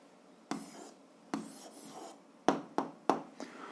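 Pen writing an answer by hand on paper during a 7th-grade algebra exercise, heard as several short scratchy strokes and taps in uneven bursts, close and fairly quiet, with no talking.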